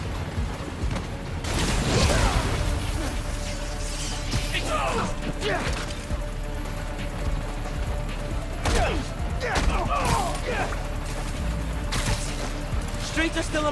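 Gunfire and crashing impacts in the Spider-Man: Miles Morales video game during the Harlem battle, with bursts of shots and smashes recurring amid loud combat noise and voices calling out.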